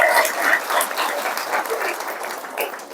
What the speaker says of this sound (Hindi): तो जब पक्का है तो ताली बजाओ।